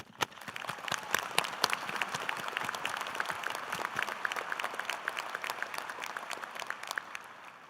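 Applause from a university commencement ceremony audience, dense steady clapping that swells and holds at a moderate distance without talk.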